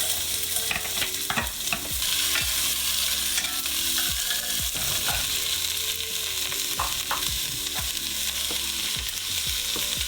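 Fish curry with coconut milk cooks in a pan while being stirred, giving a continuous close sizzle and bubbling broken by repeated scraping strokes of the spoon at an irregular rhythm, with no talking.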